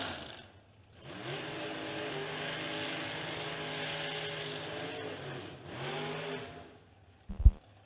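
Drag racing cars at a Spring King of the Creek event roar down the strip in two long, loud passes with rising harmonic engine tones, separated by a brief dip, ending with sharp clunks and bangs.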